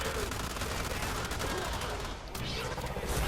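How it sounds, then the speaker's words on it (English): Dense, continuous rapid gunfire from many weapons as enemies fire on one another in the video game Warframe, a loud sustained fusillade with a brief dip before resuming. "they all immediately hold their heads and begin firing upon one another"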